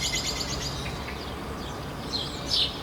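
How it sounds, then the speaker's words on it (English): Birds chirp in gardens near the United Nations in Geneva, with a few faint, high twitters toward the end over a steady, wind-like outdoor rush. "You can see the birds"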